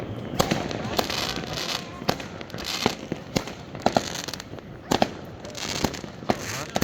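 Sharp firecracker bangs pop irregularly, some in quick pairs, over a crackling, noisy background with distant voices, at a New Year's Eve celebration.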